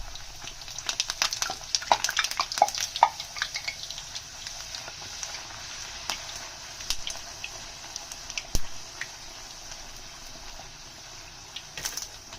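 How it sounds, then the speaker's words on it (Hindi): Puris of masala dough frying in hot oil for Sindhi koki-style crispy tikhi puri, a soft continuous sizzle with scattered pops and bubbling crackles, quiet and close, with no talking. "ये देखें ये ऑयल गर्म हो चुका है, तो अब हम पूरी फ्राई करने के लिए डालेंगे।"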